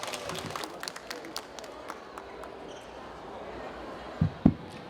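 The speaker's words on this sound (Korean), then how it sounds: "큰 박수 부탁드릴게요" A small audience at an autism talks event gives scattered, fairly faint clapping at the start, which thins out into quiet room tone, with a couple of dull thumps near the end.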